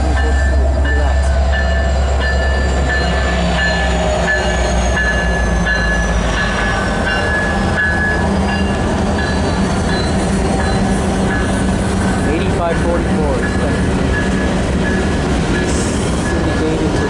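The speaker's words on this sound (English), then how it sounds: "I'm just videotaping the train." A freight train rolls steadily past close by, a loud continuous rumble of wagons with rhythmic wheel clatter and occasional high squeals and horn-like tones, and faint voices mixed in underneath.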